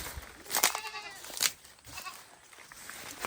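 Goats bleat twice in a village setting during Dashain season, a loud quavering call near the start followed by a second one about a second later, with a faint third call and quiet rustling farmyard background between.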